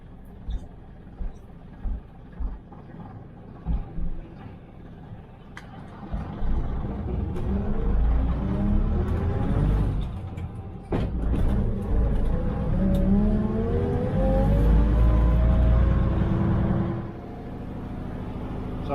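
Vintage bus creeping down a steep 1 in 8 hill in a very low gear, its engine a steady close rumble with rising and falling whine, joined by people talking nearby.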